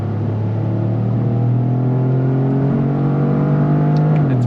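A 2025 Toyota GR Corolla with an automatic transmission accelerates on throttle in first gear, its engine droning loudly and rising steadily in pitch, heard from inside the cabin with no talk.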